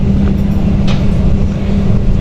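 A Pandalungan passenger train has just pulled out of Probolinggo station, heard from inside the carriage as a loud, steady low rumble of wheels and running gear with no distinct beats, continuous throughout and without talk.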